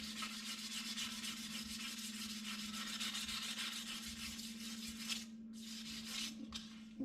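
Stainless steel trim from a Holden HT Monaro being polished to remove scratches, a steady rubbing hiss with a constant underlying motor hum, close and even, easing briefly near the end.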